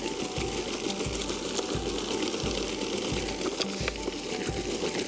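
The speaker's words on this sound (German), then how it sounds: "man kann damit relativ schnell einmal die Fläche abbürsten und das mache ich gerade" A Toro mower sweeps across an autumn lawn strewn with acorns, giving a steady mechanical drone with a regular pulsing beat throughout, with no talk.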